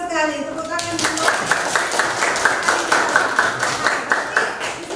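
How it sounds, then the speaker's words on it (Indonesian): A class of students claps together in a classroom during a teacher-training lesson, with a dense, steady patter of many hands that starts after a brief voice at the beginning and carries on evenly to the end. "Tepuk tangan dulu."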